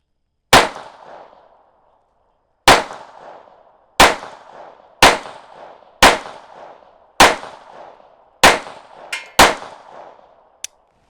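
A Colt 1903 Pocket Hammerless pistol fires eight sharp, loud single shots at a target, spaced about one to two seconds apart, each ringing out briefly before silence, with a small metallic clink near the end.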